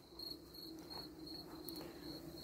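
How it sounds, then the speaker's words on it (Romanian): Cricket chirping steadily and continuously near a beekeeper's hives in summer, a dense high-pitched trill running unbroken throughout with no talk. "asta cântă toată vara, e, un greieraș"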